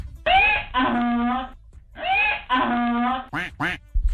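A duck quack sound effect plays on a morning radio show: two loud, nasal, drawn-out quacking calls, then two shorter quacks at the end, all heard clearly with no talk over them.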